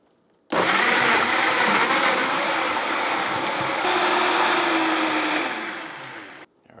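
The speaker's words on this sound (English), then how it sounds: "Now we're going to take these, blend them up until they're nice and smooth." A blender purees peaches for a margarita, running loud and continuous for about six seconds with a steady high whir that slowly winds down before cutting off.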